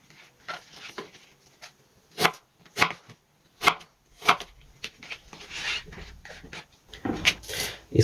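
A knife chops apples into cubes on a cutting board, giving sharp separate knocks at an uneven pace, close and clear, with a few quieter scraping sounds between strikes.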